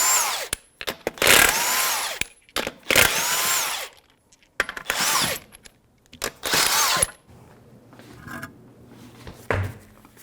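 A power tool spinning lug nuts off the front wheel of a 1997-2006 Jeep Wrangler with a 21mm socket, four loud whirring bursts of a couple of seconds each with short gaps, then quieter clinks.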